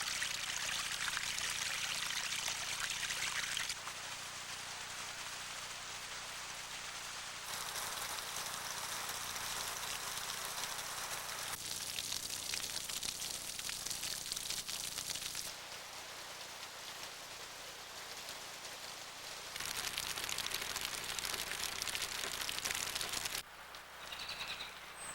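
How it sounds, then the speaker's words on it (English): Light water falling from an overhanging rock in Zion patters and trickles steadily, a continuous soft rain-like spatter with faint birdsong behind it. "the light rain falling from the rock is cool and refreshing"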